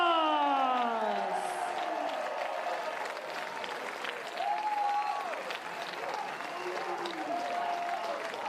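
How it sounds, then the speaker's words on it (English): A crowd at a live professional wrestling event in Melbourne applauds and cheers in a steady, dense wash of clapping and voices before the main event, with occasional whoops rising above it. "You can hear this electrified crowd ready for our main event."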